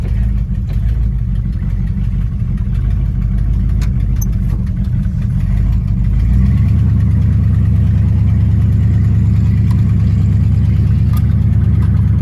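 A 1955 Buick's engine rumbles loudly as it drives through a neighborhood, the tone shifting to a smoother, deeper drone partway through as it cruises along.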